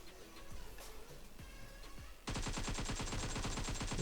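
Gunfire in PUBG Mobile: after quieter game ambience, a sustained burst of rapid automatic shots starts and keeps firing loud and close, with no talk.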